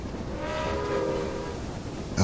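The steam locomotive Texas in the train game Railway Empire sounds a sustained whistle over the chugging rumble of the running engine, holding steady for about two seconds before a sharp click at the end.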